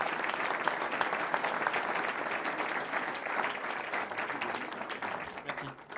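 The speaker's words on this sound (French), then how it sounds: "on peut applaudir David Kersos qui va le recevoir tout de suit" Audience applause at an innovation awards ceremony for young businesses: a dense, even patter of many hands clapping that keeps going steadily and then starts to fade near the end.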